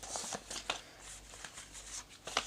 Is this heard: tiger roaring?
no